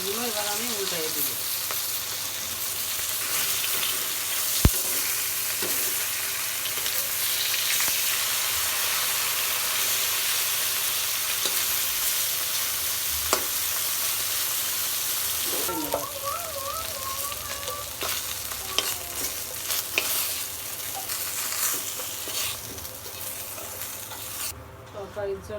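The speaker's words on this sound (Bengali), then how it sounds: "মাছগুলো এবার আমি উল্টাই দিব" Fish fry in a wok of hot oil with a steady, crackling sizzle throughout, broken by spatula scrapes and clatter as the pieces are turned, and a voice briefly heard now and then.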